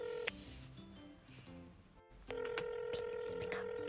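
A telephone ringback tone during an outgoing call: after a short silent gap, a steady, continuous tone sets in and holds, sitting over a faint background hiss.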